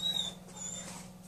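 A dog whines and whimpers softly nearby, with high, thin vocalizations over a quiet background hum.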